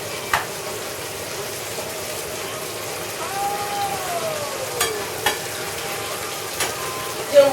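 Homemade fries cooking in hot oil at about 400 degrees, a steady soft crackling sizzle throughout with a few louder pops and brief clatters, no talking.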